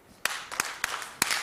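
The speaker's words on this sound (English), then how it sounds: "So we are going to do an Ahoya clap for Auntie Esther." A small group claps an Ahoya clap in a meeting hall, five sharp hand claps spaced irregularly with brief gaps between them, fairly close and clear with no talking over them.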